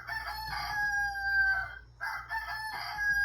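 A rooster crows twice in a row, each call a drawn-out cock-a-doodle-doo, heard fairly faintly against a low background hum.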